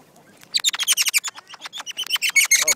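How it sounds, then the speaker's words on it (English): Wild Australian parrots squawking and chirping during a squabble, a rapid loud burst of sharp, repeated calls, close by and continuous, with no talk over them. "Oh, bird fight."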